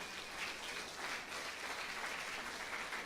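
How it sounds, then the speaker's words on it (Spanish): A church congregation claps for the Lord during a Spanish-language service, a steady, dense wash of applause sustained for the whole stretch without a pause, moderately distant. "Dele por favor al Señor un aplauso"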